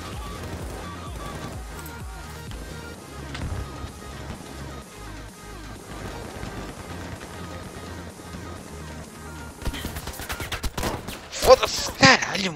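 Gunfire in the video game Battlefield V: mostly low, muffled shots and combat rumble under a steady musical bed, breaking into louder, sharper bursts near the end, with voices talking over it.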